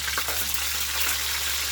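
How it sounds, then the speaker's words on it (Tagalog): Garlic and onion sautéing in a pan as the base for chicken adobo, a steady broadband sizzle and crackle of frying that runs through the whole short stretch at moderate, even loudness with no talking. "Magigisa tayo ng bawang sibuyas."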